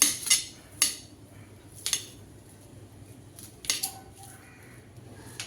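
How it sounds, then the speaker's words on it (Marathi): A knife cuts an onion into pieces on a board, heard as a few sharp, close chopping clicks and taps spaced irregularly, with quiet gaps between them. "आपल्याला हा पहिले कांदा थोडा कट करून घ्यायचा आहे"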